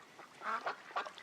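A duck gives a few short nasal quacks, close and fairly quiet, in a brief run of two or three calls.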